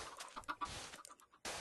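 Chickens cluck softly in the modded block-building video game Minecraft (FTB), a few short faint clucks at low volume with no talk.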